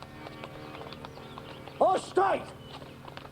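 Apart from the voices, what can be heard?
horse hooves arriving in a courtyard, audio play effect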